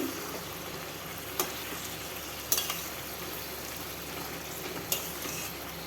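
A tomato sizzles in a hot pan in a home Bengali kitchen, with a steady low frying hiss and a few sharp stirring clicks, near and alone with no talking.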